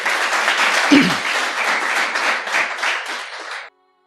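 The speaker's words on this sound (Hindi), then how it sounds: "तो एक तालियां प्लीज मैं चाहता हूँ इनके लिए हो जाए।" A poetry-reading audience claps for people the poet is thanking: a thick burst of many hands with one brief low thump early on, holding steady before cutting off abruptly near the end.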